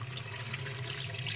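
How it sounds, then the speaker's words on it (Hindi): Water streams steadily onto frozen ice inside a refrigerator during a repair, making a continuous hissing splash with no pauses. "आप पानी पा रहे हैं,"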